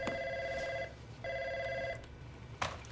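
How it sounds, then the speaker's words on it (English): An office desk phone rings in two long electronic trills with a pause between them, followed by a short clatter as the handset is picked up. "At that moment, Dwight's phone rings, and Dwight knows his priorities."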